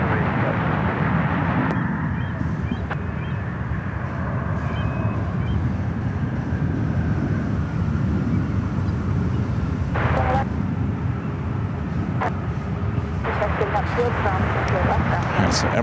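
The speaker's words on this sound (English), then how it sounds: "Right, so Emirates now making its way to the international terminal." Emirates airliner taxiing to the international terminal at San Francisco airport, a steady loud engine rumble with wind noise throughout and a few brief higher-pitched tones breaking in.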